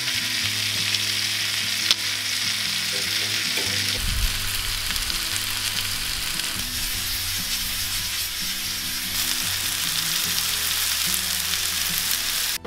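Bacon, onions and mushrooms fry on a Weber Gourmet BBQ System griddle, giving a constant, dense sizzle with faint scraping and stirring underneath and no voices.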